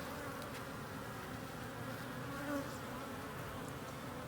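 Honey bees swarm and buzz around freshly cut comb while queen cells are cut out to make splits, a close, dense, steady drone that holds for the whole stretch with no voices.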